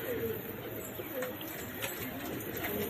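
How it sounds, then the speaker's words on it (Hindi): Pigeons cooing close by, at a pigeon flying club in South Asia, a low continuous murmuring coo that runs the whole time over a steady background hiss, with faint chirps above it. "ये देखें माशाल्लाह से कबूतर पकड़ लिया"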